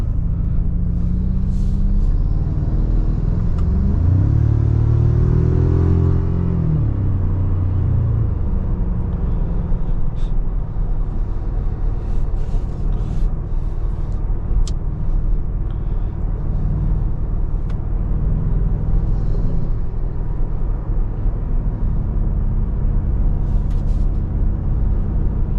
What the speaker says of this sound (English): Sound of that engine, beautiful.